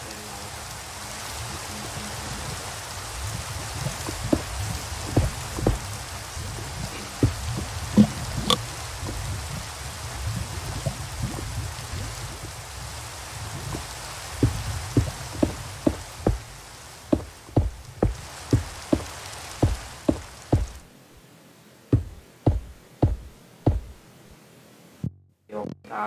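Rain falls in a hardcore survival video game world as a steady broadband patter that fades out near the end, with sharp knocks and clicks increasingly cutting through.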